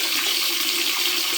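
Water pours steadily into a tank fitted with a DIY float level controller that shuts off automatically when full, a constant hiss-like rush of running water with no talk.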